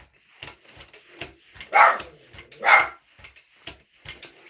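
A dog barks at the postman delivering a package, with a series of sharp, fairly close barks and whimpers in an irregular rhythm, loud against a quiet indoor background.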